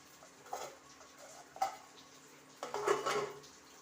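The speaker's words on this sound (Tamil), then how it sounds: "இதை மூடி போட்டு மூடிடுவோம்." Metal clinks and scrapes as a lid is handled and set onto a pot of simmering fish curry: a few light taps, then a longer rattling clatter near the end, over quiet background.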